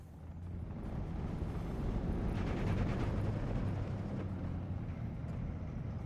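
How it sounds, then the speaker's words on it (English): Nebelwerfer rocket strike in Steel Division 2: a sustained, deep rumbling roar of explosions that swells and stays broad and heavy across the whole stretch, with no voices. "Nebelwerfer strike up north along with a Ju-87 call in. That's going to come down."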